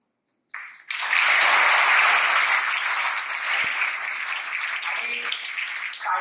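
Audience applause during a speech at a memorial tribute, a dense burst of many hands clapping that starts abruptly, swells quickly and holds steady and loud for several seconds before easing slightly.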